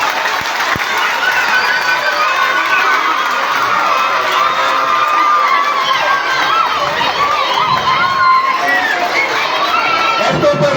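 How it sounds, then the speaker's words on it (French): Crowd of school students at a back-to-school mass cheering, shouting and clapping together, a loud continuous roar of young voices with no pauses. "Applaudissez pour vous-même."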